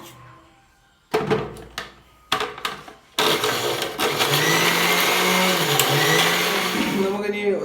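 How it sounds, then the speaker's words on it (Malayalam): A blender starts up and runs steadily on a lemon juice and vinegar mixture after a few knocks and clunks, whirring loudly and close while the motor pitch wavers. "വിനീഗറിൻ്റെ മൂടിയിൽ തന്നെ ഒരു മൂടി അങ്ങനെ ഒഴിച്ചു കൊടുത്തതിന് ശേഷം നമുക്കിതൊന്ന് ബ്ലെൻഡ് ചെയ്തെടുക്കാം."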